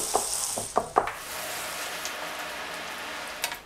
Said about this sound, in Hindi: अभी इसे मज़ीद भूनना है, फ्राई करना है, थोड़ी देर और पकाना है